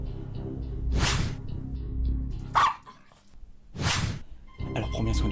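A dog barks a few loud, spaced woofs close by, interspersed with people speaking.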